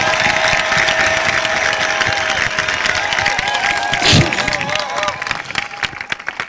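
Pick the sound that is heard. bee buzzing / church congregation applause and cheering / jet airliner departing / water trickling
church congregation applause and cheering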